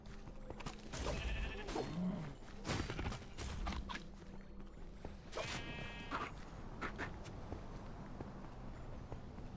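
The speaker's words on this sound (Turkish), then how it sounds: "Ha koyun." Sheep bleat in the video game Minecraft Dungeons: several wavering cries with a few creaks and mechanical game sounds in between, no talking.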